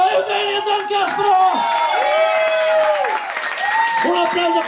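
A crowd at the CaseMatte poetry slam final applauds the winner, with steady clapping under rising whoops and cheering voices and a speaker talking over the noise.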